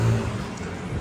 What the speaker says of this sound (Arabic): بعتذر جدا لو الاصوات مزعجة، اصوات السيارات